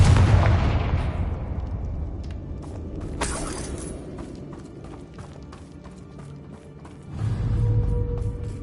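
A Confringo blasting spell explodes with a loud burst in the Hogwarts Legacy video game, followed by crackling debris, a second bright blast midway and another rumble near the end.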